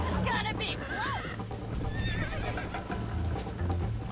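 Horses whinny and neigh during a race in the western video game Red Dead Redemption, with a steady galloping clip-clop underneath and a voice talking over parts of it.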